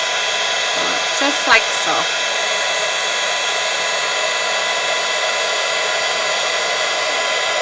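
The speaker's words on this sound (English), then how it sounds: "I'm just going to grab my heat tool again and let's do these." An embossing heat tool blows a loud, steady, unbroken whoosh across a journal page, with a short spoken remark early on.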